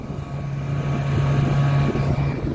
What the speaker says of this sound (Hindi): ये आप लोग इंजन की आवाज़ सुन सकते हैं।